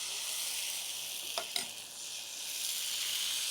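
Appam batter hits a hot nonstick tempering ladle with a brief sharp sizzle, set against a steady background hiss of hot metal and oil. The sound is close, and no voice is heard.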